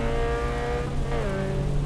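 Race car engine in the Assetto Corsa EVO driving game, a steady droning note with layered harmonics that holds throughout and dips slightly in pitch midway, with no talking.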